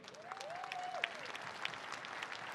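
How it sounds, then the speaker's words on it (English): Soft, steady applause from a convention audience for a prize winner at the SUMA Convention 2020. The clapping is faint and distant and fills the whole stretch, with a thin tone drifting above it. "let's give Carmen a big round of applause"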